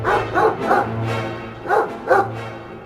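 Hunters' dogs bark in a series of sharp yaps, five or so in uneven bursts, close and fairly loud.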